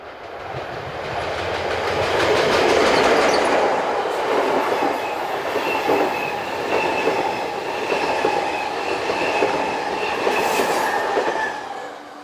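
A Swiss interregional passenger train runs from Basel to Locarno behind an electric locomotive and rounds a curve, a loud sustained rumble of rolling wheels with faint squealing tones from the curve.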